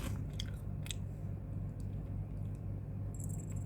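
A sweet, crunchy milk-flavoured snack being chewed close up, with soft crackly bites and crisp crunches repeating steadily through the moment.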